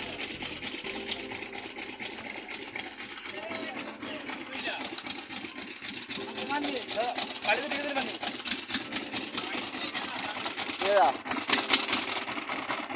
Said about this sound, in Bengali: খেয়াঘাটের এই নৌকাটি এই মাত্র এখান থেকে ছেড়ে যাচ্ছে।